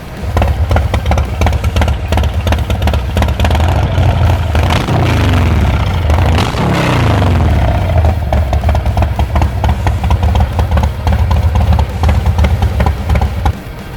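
A 2018 Harley-Davidson Softail Heritage Classic fitted with a loud, wide-open Tab Performance exhaust with zombie baffles and a Screaming Eagle air cleaner runs steadily and close, with a deep rumbling idle and a couple of brief revs rising midway.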